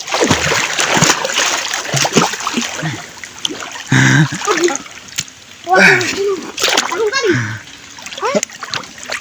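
Water splashes loudly in several bursts as a person plunges in, while children talk and shout throughout.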